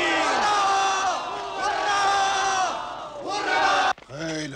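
A large crowd roars and cheers in sustained, loud waves of shouting, then a brief break before the cheering surges again.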